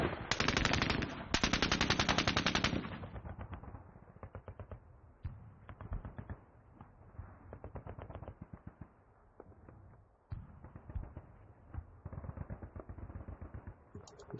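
Rapid bursts of PPD submachine gun fire in a John Tiller WWII strategy game, a loud sustained opening volley followed by a long run of quicker, lighter rattling shots and short clusters.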